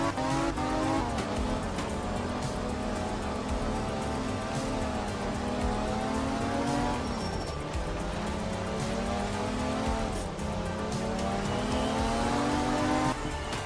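A race car engine in a racing video game holds a loud, steady drone that rises and falls through gear shifts, with tire squeal and skidding mixed in throughout and no voices.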